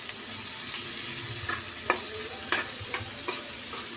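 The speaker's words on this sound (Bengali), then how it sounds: "তো এখন উচ্ছে ভাজছি।" Sliced bitter gourd fries in hot oil in a home kitchen pan, a steady soft sizzle broken by several sharp scraping stirs of a spatula, close by with no talk.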